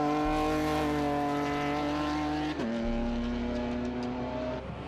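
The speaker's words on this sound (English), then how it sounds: "all the while trying to keep the BMW M3 of Martin Farkas and Tristan Catford at bay" Race cars, among them a BMW M3, roar past at a motorsport festival, with a loud sustained engine drone that shifts pitch midway as one passes close by.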